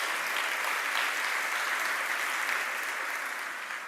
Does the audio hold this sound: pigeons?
no